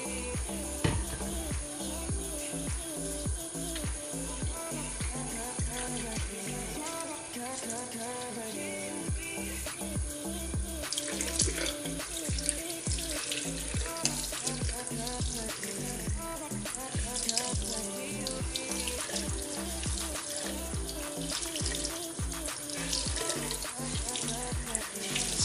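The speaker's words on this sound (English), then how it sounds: "I just keep squeezing the sponge until there's no more soap coming out." Tap water runs steadily and fairly loud for the whole stretch while a makeup sponge full of soap is squeezed and rinsed under it, with splashing changes as the sponge moves through the stream.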